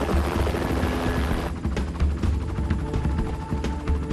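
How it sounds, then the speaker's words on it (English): A helicopter flies in over a lava field, its rotors throbbing loudly and steadily with a harsh, chopping rumble and no voices. "Bob and Robin will helicopter in to photograph the lava sampling and tread gently."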